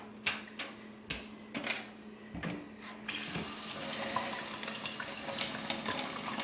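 Tap water runs into a sink while a makeup brush is rinsed and squeezed, a few splashy drips at first, then a steady close stream of running water.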